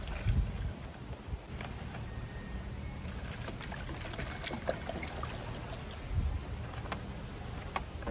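Vinegar is poured into a container that holds small grill parts, a soft continuous trickle and gurgle heard close and quiet, with a couple of low clunks near the start and end.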